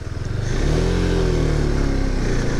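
A motorcycle engine revs hard with an uneven, struggling clutch, rising from a brief idle into a sustained, loud, close roar with rough mechanical clatter throughout.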